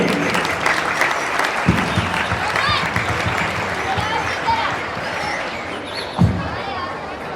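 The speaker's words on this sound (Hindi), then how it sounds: "जोरदार तालियां बजा दें बच्चों के लिए।" Loud crowd applause for children at a church Sunday school Christmas program, sustained clapping with murmuring voices and chatter mixed in throughout, a couple of sharp knocks standing out.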